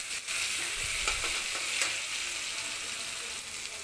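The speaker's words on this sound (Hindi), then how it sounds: "थोड़ा सा कच्चापन हट जाए इसका तब तक फ्राई करना है" Chopped vegetables fry in a pan as the base for Maggi noodles, a steady bright hiss of sizzling with a few soft stirring knocks.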